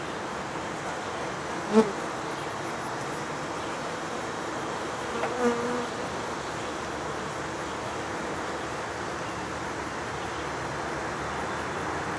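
Honey bees buzzing around an outdoor beehive in a bee yard, a steady faint drone of many insects throughout, with a couple of brief louder thumps early on and no talking.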